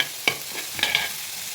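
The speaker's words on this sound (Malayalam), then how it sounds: "നന്നായിട്ട് വഴറ്റാം" Semiya upma is sautéed in a pan, with a few sharp scrapes and stirs of a spatula over a low sizzle, brief and close, with no voices.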